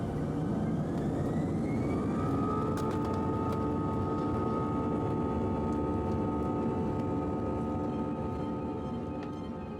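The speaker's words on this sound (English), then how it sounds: "Please fasten your seatbelt now, as we are taking off." Airliner cabin during takeoff from Berlin, a steady loud engine roar with rising whine tones building throughout, no talk over it.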